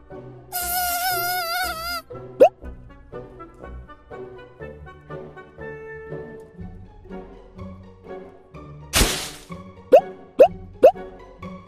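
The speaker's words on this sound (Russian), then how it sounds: "Комар" A mosquito whines in a high, wavering buzz for about a second and a half near the start, followed by cartoonish plops, pops and a light musical backing.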